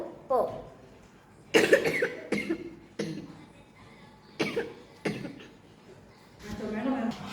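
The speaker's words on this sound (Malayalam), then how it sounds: "എനിക്ക് ചുമയായിട്ടാണ് ഞാൻ പോസ് ചെയ്തത്" A person coughs several times in separate harsh bursts spaced a second or so apart, close and fairly loud, with some throat clearing between them.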